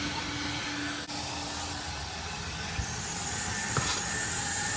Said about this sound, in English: that's what we want a vacuum to be like